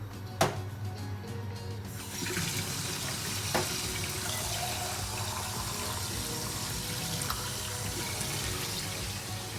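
A sharp clunk, then a steady stream of water pours into a pot, continuous and close, with a faint tap midway.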